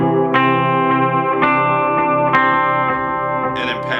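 An electric guitar plays a clean tone through a Boss MS-3 multi-effects switcher with delay and reverb, producing ringing picked notes whose repeats trail after each attack and blend into a lush, sustained wash.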